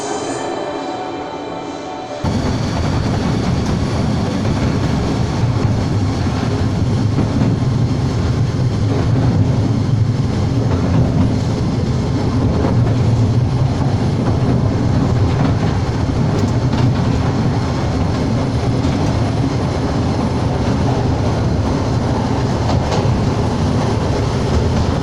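The Mail Rail underground postal train at London's Postal Museum runs through its tunnel, a loud, steady rumble and rattle of wheels and carriages that starts abruptly after a quieter moment and continues without a break.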